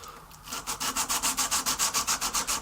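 A knife blade is rubbed lengthways by hand during finishing, producing a steady, evenly paced series of about fifteen close, raspy abrasive strokes.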